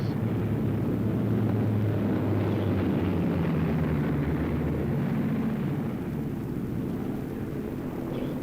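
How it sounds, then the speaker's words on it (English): Army helicopter flying, a steady low rotor and engine rumble that holds at constant loudness throughout, with no voices. "But what a job the helicopter can do"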